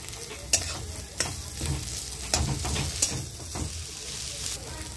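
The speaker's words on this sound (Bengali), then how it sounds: "তেলে ভাজা হয়ে গেছে প্রায় আলুটা।" Grated potato fries in oil for aloo paratha with a continuous, close sizzle, punctuated by regular scraping and knocking strokes of a spatula stirring the pan.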